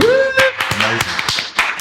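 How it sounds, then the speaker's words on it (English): An audience at a talk with a pastry chef claps in scattered, sharp hand strikes spread through a reverberant room, following a short sustained voice at the start. "Roll out your applause."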